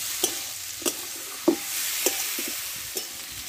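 Potatoes and yardlong beans sautéing in a pan: a low continuous sizzle broken by a handful of sharp spatula scrapes and taps at irregular intervals, close by and with no voices.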